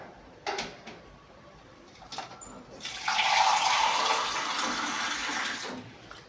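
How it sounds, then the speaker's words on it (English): A container being filled with water while preparing traditional bicarbonate: a few knocks and clatters, then a steady gushing fill that continues, close by, to the end. "Then we fill it up with water."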